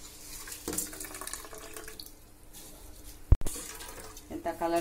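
Soaked basmati rice tipped into a pot of water for Hyderabadi egg biryani, a steady watery splashing and pouring with a sharp clatter midway and bubbling, trickling bursts near the end, a voice speaking faintly underneath.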